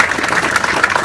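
Applause for the crew behind an OH-58D helicopter static display, a short, steady patter of clapping at moderate loudness with no talk over it.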